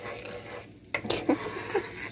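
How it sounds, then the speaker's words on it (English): Browning butter foams in a pan as a spoon stirs it, soft sizzling with a few sharp scrapes and clinks against the pan after a brief quiet gap. "You really should stir it pretty often."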